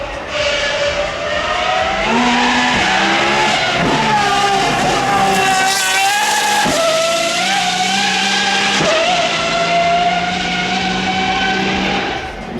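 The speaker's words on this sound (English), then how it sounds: "Lyra R coming through, starting off the supercar run with a whole bunch of track-focused hypercars." Lotus Evija-style Lyra R track-focused hypercar passing at the Goodwood supercar run, a loud sustained engine note that rises through rapid gear changes, swelling as it nears and easing away at the end, with little talk.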